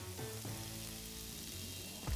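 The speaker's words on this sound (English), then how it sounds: "You can see the caramelization in here, and you can hear that it's frying." Vegetables sizzle and fry in a pan for a chilli 'non' carne soup, a dense, continuous crackling hiss with a brief stirring scrape at the end.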